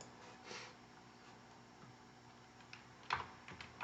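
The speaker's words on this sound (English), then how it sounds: "and then just type in" Faint keystrokes on a computer keyboard, a few scattered soft clicks early followed by a quick cluster of taps near the end, quiet against a low background hum.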